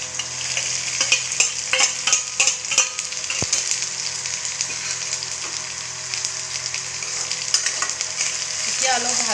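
A paste of ginger, garlic and cumin fries loudly in a pan, with a bright continuous sizzle and frequent scraping stirs and clinks throughout, up close.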